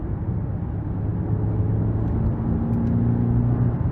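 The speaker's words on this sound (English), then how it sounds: "It definitely has some pep in it to push this big of a vehicle with a 4-cylinder." A 2023 Cadillac XT5 with a 2.0-liter turbocharged four-cylinder and AWD is under way, giving a steady low engine and road drone that swells slightly partway through, with no voices.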